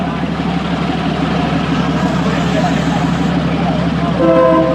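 An ordinary Thai train rumbles steadily through a market, a loud, continuous rolling noise close by, with a horn-like tone rising near the end.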